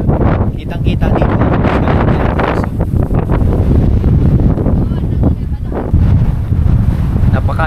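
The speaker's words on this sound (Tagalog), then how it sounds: "lakas ng hangin dito guys." Strong wind buffets the microphone at the Pacific View Deck in Dingalan, Aurora, a seaside overlook, as a loud, continuous roaring rush with gusty surges throughout.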